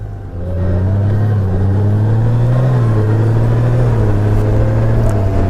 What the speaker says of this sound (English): Now the bike is shifting smoothly